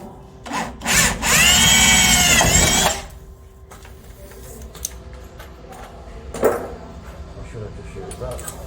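A power drill with a 12mm bit whines loudly for about two seconds, then cuts off; afterward faint clatter and a brief knock follow in a quiet room.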